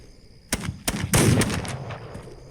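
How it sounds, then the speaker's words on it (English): Gunfire in the video game This Land is My Land: a few sharp, loud shots in quick succession, then a short cluster of overlapping blasts that fades into a ringing tail. "Now we're in a gun-slinging match."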